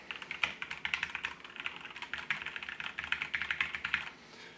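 A Keychron K4 wireless keyboard being typed on, its keys giving a light click that is not too sharp: a fast, steady run of close, quiet keystrokes.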